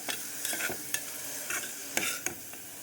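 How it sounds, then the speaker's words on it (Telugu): Onions and green chillies fry in a pan for a mushroom curry, with a soft continuous sizzle. A spoon scrapes and stirs in irregular close strokes over it, and no one speaks. "కొంచెం ఎర్ర రంగు వచ్చే వరకు వేపుకోవాలన్నమాట"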